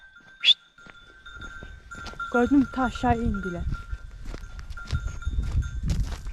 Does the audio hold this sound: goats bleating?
yes